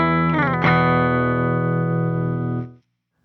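Distorted electric guitar rings out a dissonant major 7 chord voiced over E, with a quick strummed attack followed by a loud, sustained buzzy wash that holds steady for over two seconds before cutting off abruptly.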